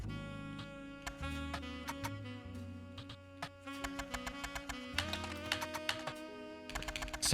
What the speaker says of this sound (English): Oh, the sound! It's a typewriter!